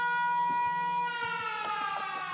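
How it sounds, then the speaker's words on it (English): An air raid siren alarm sounds in the video game Factorio, a loud sustained wailing tone with rich harmonics that drifts slowly in pitch, with faint clicks underneath. "It's an air raid siren."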